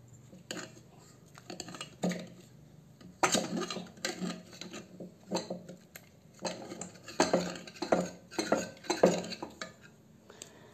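A spoon stirring and mashing cooked food in a pot, with scattered clinks and scrapes of metal on the pot in uneven bursts, close and fairly quiet.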